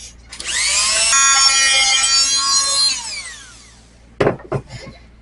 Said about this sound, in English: we're going to customize it with one of my favorite Harbor Freight tools, the oscillating tool